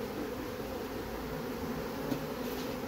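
A steady, dense buzzing of many bees being calmed with smoke fills the air, close and continuous with no pauses.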